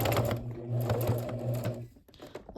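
A home sewing machine stitching a strap onto a corduroy bag, a steady rapid mechanical hum and needle chatter running close and loud for nearly two seconds before stopping, followed by faint handling noises.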